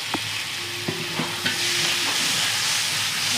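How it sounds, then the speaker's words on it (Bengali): Spices stirred and fried in oil for a desi-style mushroom curry, with a few scraping clicks of a spoon over a steady sizzle that grows denser and louder partway through. "মশলাটাকে একটু নেড়ে চেড়ে ভেজে নিলে কাঁচা গন্ধটা থাকবে না"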